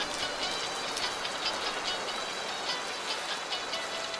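Steady rain falls on a mountain trail on a rainy day, a dense even hiss of drops spattering on surfaces with no pauses, close and moderately loud with no voices.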